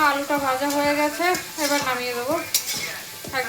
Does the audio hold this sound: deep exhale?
no